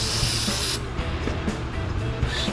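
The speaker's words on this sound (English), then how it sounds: "I'm just going to spray it off. Cleaner." Cleaner sprayed onto grimy scrap generator parts to clear old dielectric grease, a close, loud aerosol hiss that runs steadily through the whole stretch with a few brief breaks in intensity.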